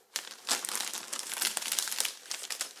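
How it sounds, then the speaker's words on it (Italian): A polypropylene gift bag crinkles and rustles as a Christmas present is slid inside, a close, continuous crackling with sharper bursts throughout, no talk. "Prendiamo il nostro regalo, lo inseriamo nella busta"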